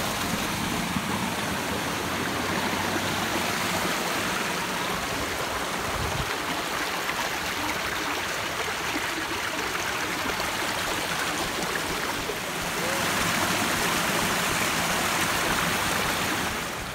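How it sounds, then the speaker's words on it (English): A waterfall at the top of its drop along a hiking trail at Mickey Grove. The water makes a steady, loud, full rushing roar that carries on unbroken with no voices. "The top of the waterfall."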